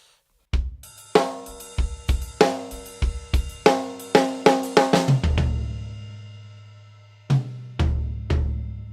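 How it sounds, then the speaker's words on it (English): A drum fill runs through snare hits, one tom and two floor tom strikes, played loud and close. After the run a low floor tom rings on, then two more spaced hits follow alone after a pause. No voices. "I'm just hitting the tom once and then the floor tom twice"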